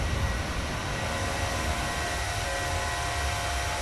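A PMDG 737-800 in Microsoft Flight Simulator is heard from outside the airliner as its jet engines give off a loud, steady broadband roar with a continuous whine, unbroken and without any speech.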